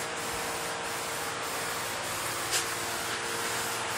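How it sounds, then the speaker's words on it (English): Self-etching primer sprayed from a can around the window moldings of an OBS Chevy truck body, a steady close hiss filling the whole stretch without a break. "Spraying a little self-etching around the window moldings."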